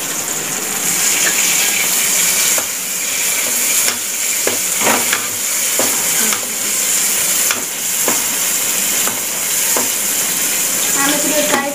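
Tomatoes frying in a pan during Maggi noodle preparation, a dense continuous sizzle with occasional stirring scrapes and clicks throughout, close and loud.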